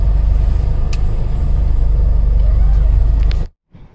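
Four-wheel-drive motorhome rolling on a Sahara desert track in Tunisia, heard as a loud, steady, deep engine and road rumble close by that cuts off abruptly near the end, with a voice speaking over it.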